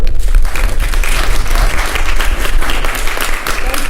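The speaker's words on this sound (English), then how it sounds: "one more round of applause for her" A theatre audience gives a loud, sustained round of applause for the director of a community theatre production, dense steady clapping throughout with a few voices mixed in.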